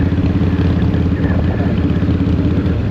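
A 2003 Harley-Davidson Fat Boy on a test ride after a fuel pump replacement, its engine a steady, loud, low throbbing rumble with a dense, even pulse throughout.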